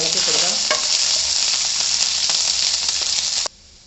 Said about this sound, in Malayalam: ഇതിൻ്റെ ഒരു പച്ചമണം മാറുന്നത് വരെ നമുക്ക് ഇളക്കി കൊടുക്കാം.